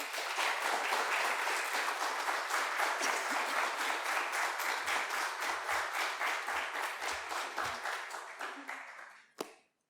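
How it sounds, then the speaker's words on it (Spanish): An audience gives a sustained round of applause for an Argentine national deputy at a talk on the libertarian revolution. The dense clapping holds steady for about nine seconds, then fades and stops. "por favor, un gran aplauso a Berti"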